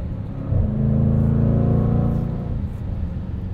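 A 2021 Jaguar F-Pace SVR SUV takes a corner, its engine giving a loud, smooth rumble that rises briefly in pitch and then eases off.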